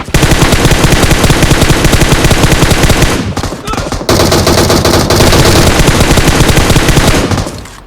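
Rapid automatic gunfire in the mobile shooter PUBG Mobile, loud dense bursts with a brief pause near the middle before sustained fire resumes and then cuts off, close and continuous with no talk.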